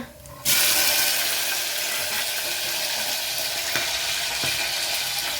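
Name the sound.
whole spices, cumin and bay leaf sizzling in hot ghee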